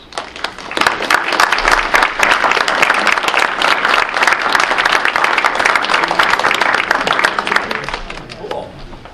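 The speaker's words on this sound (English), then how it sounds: "please stand up so we can give you a round of applause" Sustained audience applause fills the hall at a lecture event, dense and steady clapping from a large crowd with no break throughout.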